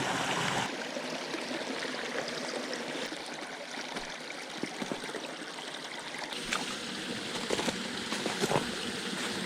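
Deep, wide creek with a strong current, rushing and splashing steadily and loudly up close, a continuous broadband wash of water with occasional louder splashes.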